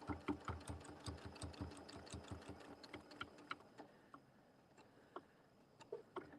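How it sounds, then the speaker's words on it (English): A sewing machine edge stitching fabric onto a quilted holiday wreath: fast, close rattling runs of stitches at first, then shorter, sparser bursts with pauses as the sewing slows. "So I'm just basically edge stitching this on."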